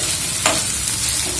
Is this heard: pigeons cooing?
no